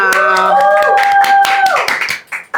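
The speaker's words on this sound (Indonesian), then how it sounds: "Tepuk tangan dong semuanya." An audience greeting a podcast guest claps with sharp, distinct hand claps while a tonal sound and a voice carry over the top, the clapping thinning out toward the end.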